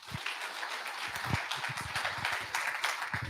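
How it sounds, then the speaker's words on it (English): An audience at a real estate master class claps in a steady, continuous patter of applause that lasts throughout. "So, guys, give a warm applause for Todd here."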